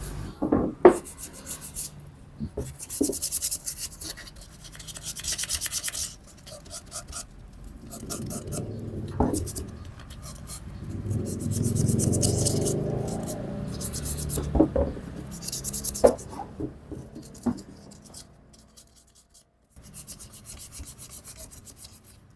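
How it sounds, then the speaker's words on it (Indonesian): Hand sanding on a wooden ashtray with folded sandpaper: repeated rasping back-and-forth strokes come in bursts with short pauses, close and moderately loud. "Untuk bagian sininya kita amplas, dengan kita amplasnya kita tekuk seperti ini teman-teman."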